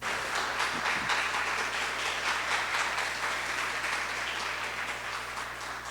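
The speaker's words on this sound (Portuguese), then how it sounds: "Vamos aplaudir Jesus bem forte" A church congregation applauds during a Sunday service, with steady, dense clapping from many people that fades slowly toward the end.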